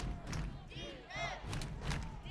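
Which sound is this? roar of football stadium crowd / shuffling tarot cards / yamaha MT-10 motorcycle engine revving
roar of football stadium crowd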